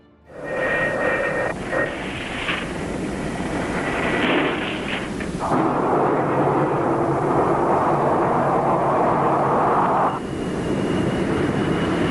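An F-4E Phantom jet lands on a carrier deck and catches the arrestor wire, heard as a loud, sustained roaring engine rush that surges and shifts in tone partway through, then holds steady before easing slightly.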